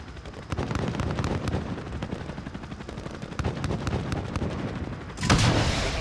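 Missiles are fired in Call of Duty Modern Warfare 2019 amid continuous rumbling gunfire and crackling bursts, ending in a louder explosive whoosh near the end.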